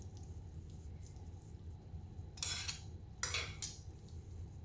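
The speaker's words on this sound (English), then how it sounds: "So I'm just gonna plate my carbonara on my pan like that." Utensils scraping and clinking against a pan while spaghetti carbonara is plated, two short bright metallic bursts over quiet kitchen background.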